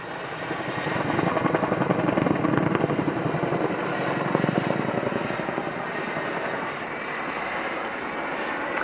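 A Chinook helicopter with contra-rotating blades flies at an airshow, its loud, steady rotor thump and engine roar swelling and holding throughout.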